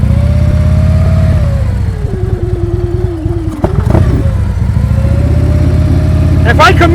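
A motorcycle engine putters steadily at low speed during slow-speed riding practice in Illinois, close and loud, its pitch dipping and rising as the rider eases off and picks up through tight turns.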